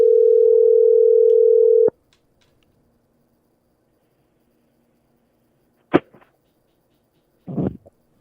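A steady telephone dial tone plays clearly for about two seconds, then cuts off, followed by near silence broken by a couple of soft clicks and a brief muffled rustle.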